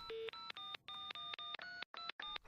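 A telephone keypad being dialed, a quick run of about nine or ten distinct touch-tone beeps in irregular rhythm, close and clear with no talking.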